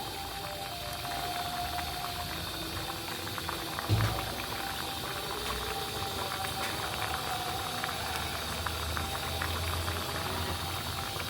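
Dhoka lentil cakes simmer in a curry with ghee, giving a steady low bubbling and burbling that runs throughout, with a brief louder bump partway through and no talking.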